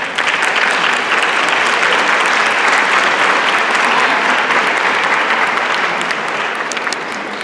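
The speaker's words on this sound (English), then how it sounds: "I want a round of applause for all the parents" Sustained, dense applause from a school band concert audience honoring the parents, loud and steady for the full stretch without a break, easing slightly at the very end.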